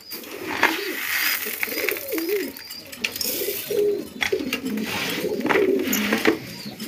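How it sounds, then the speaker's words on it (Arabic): Domestic pigeons in a loft coo repeatedly in soft, rolling low phrases, several birds overlapping close by, with rustling, flapping and scattered clicks behind them. "ده الحمام اللاحق."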